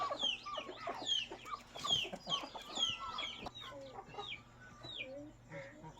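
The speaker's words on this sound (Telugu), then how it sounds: "ఈ కోళ్ళు చూసుకోండి" A rooster and several hens on a farm cluck and chatter close by, overlapping calls in a busy run, gradually thinning out toward the end.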